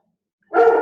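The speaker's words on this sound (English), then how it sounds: "Sorry, my dog is having a fit." A dog lets out a single sharp bark close to the microphone after a moment of silence, loud and abrupt.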